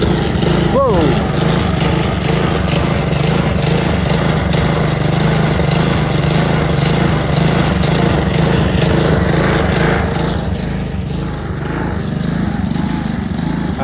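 A Honda lawnmower engine with an auto choke runs steadily and loudly at close range, its surging, hunting idle droning throughout with a voice briefly heard over it.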